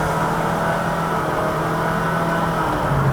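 A Honda Shuttle 1.5L i-VTEC engine drones and revs steadily from inside the car, a loud continuous hum with the throttle worked to mimic gear shifts, its pitch stepping slightly near the end.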